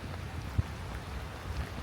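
Rain falls steadily outdoors in Jerusalem, a soft, even hiss with a couple of faint low thumps underneath and no voices.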